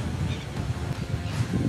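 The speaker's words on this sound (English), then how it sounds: "it's really windy" Strong wind blowing at a coastline at night, a steady broadband rush and buffeting across the microphone with no clear gusts standing out, near and moderately loud throughout.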